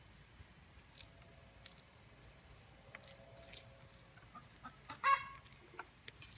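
A hen clucks after laying an egg, with faint scattered clucks and a louder burst of cackling near the end, heard quietly outdoors.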